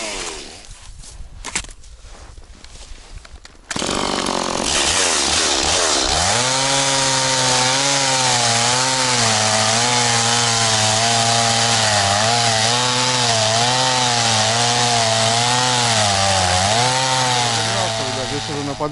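A chainsaw cuts into a tree on a slope, likely a tree being felled at the root for a log-hauling run. It runs steadily and loud for about fifteen seconds, with its pitch wavering as the chain bites, after a short stretch of rustling.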